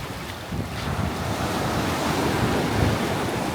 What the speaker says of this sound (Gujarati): દરિયાનો મોજાનો આનંદ લેવાનો